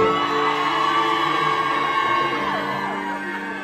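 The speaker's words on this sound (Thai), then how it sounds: "เสียงกรี๊ดดังๆเป็นกำลังใจให้หน่อยนะครับ" A charity concert crowd screams and cheers loudly for a male singer, a sustained high shrieking roar of many voices that fades slightly toward the end.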